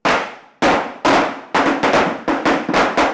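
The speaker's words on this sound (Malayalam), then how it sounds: "പിന്നീട് പടക്കം പൊട്ടിച്ചുള്ള ആഘോഷമാണ്." Firecrackers burst one after another at a Vishu celebration in Kerala: about eight loud, sharp blasts at uneven intervals, each trailing off into a short rumbling decay.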